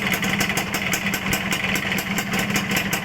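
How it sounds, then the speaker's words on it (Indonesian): A Suzuki Satria two-stroke motorcycle with a road-race exhaust idles close by, giving a steady, raspy, fast-pulsing burble that runs unbroken and with no talk. "Ini suara langsamnya kayak gini nih."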